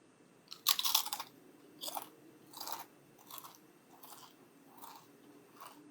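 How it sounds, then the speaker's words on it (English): Crunchy, spicy Takis rolled tortilla chips are bitten and chewed close to the mic, one sharp loud crunch followed by five or six softer, evenly spaced chewing crunches, quiet and alone with no voices. "I cannot stop eating these Takis"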